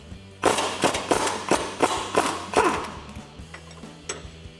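A 19mm socket and wrench work loose the nut and bolt on a lower strut mount, giving a series of close, sharp ratcheting clicks and metallic thumps in an irregular rhythm, with a few quieter clicks trailing off at the end.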